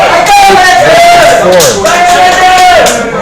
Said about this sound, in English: So they've got this cheer and chant, the Ho Chi Minh guys